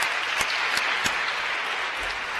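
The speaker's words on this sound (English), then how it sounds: "So again, applause." An audience at a Datathon 2018 winning ceremony applauds in a soft, steady wash of clapping, heard at a moderate distance for a couple of seconds.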